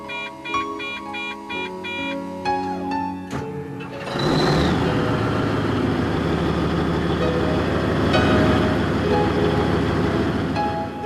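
A Haulpak dump truck's diesel engine cranks and fires about four seconds in, following tonal beeping, then settles into a steady, loud, broad rumble at idle for the remainder.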